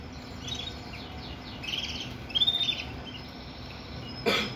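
A white fancy canary sings in short, faint chirps and a brief louder burst of tweets, heard against a low steady background hum.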